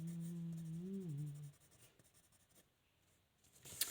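Hard pencil strokes scratch across paper, a close, steady scraping with strong pressure. A short hum or sung tone sounds first, then the shading continues alone and ends in a brief brighter rasp.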